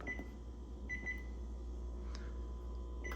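A microwave oven keypad beeps a few times, short thin tones spaced apart over a low steady hum of the running appliance, with no talk.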